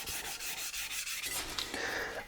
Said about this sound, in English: why do you do all that wet sanding?